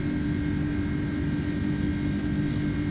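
An Airbus A310-300 airliner hand flown while climbing in Microsoft Flight Simulator gives a steady, continuous engine roar and cabin drone with a faint high whine, unchanging throughout.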